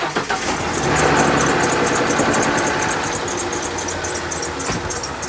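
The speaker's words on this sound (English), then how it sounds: "the engine does need to be running and turning the compressor over" A 1996 Ford F150 engine runs at a steady idle close by, with a rhythmic, repeating high squeak from a bad power steering pump in the engine bay layered over the low mechanical churn.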